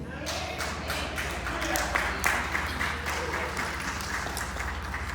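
A church congregation claps and applauds steadily through the whole stretch, a dense even patter of many hands with no talking over it.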